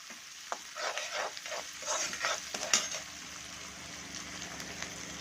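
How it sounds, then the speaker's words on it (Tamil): Chopped onions sauté in hot oil with cumin seeds, sizzling steadily while a spoon stirs them in bursts of scraping; the frying settles to a gentler hiss toward the end. "ஆல்ரெடி அரிஞ்சு வச்ச வெங்காயத்தை போட்டு எண்ணெயில் வதக்கிக்கலாம்."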